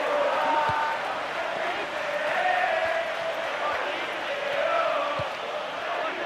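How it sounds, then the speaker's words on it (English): Steady stadium crowd roar from a first knockout round match in the football video game PES 2013, a continuous broad murmur with swelling chants throughout and no clear single cheer. "Plenty of intensity and passion among the crowd today for this first knockout round match in the tournament."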